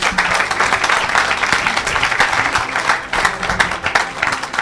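A church congregation applauds and cheers to acclaim Jesus Christ, with dense, sustained clapping from a large crowd filling the room, steady and loud throughout, and voices mixed in under the claps.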